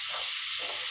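Water hits hot oil in a pan of spicy fried fish curry, giving a loud, steady hiss of steam close by for under a second.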